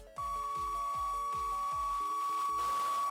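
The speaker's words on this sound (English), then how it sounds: "the radio static for when you're getting chased" A horror-game radio static for a chase scene: a thin, piercing steady tone rides over buzzing interference and a pulsing low beat, swelling into harsher noise near the end before cutting off abruptly.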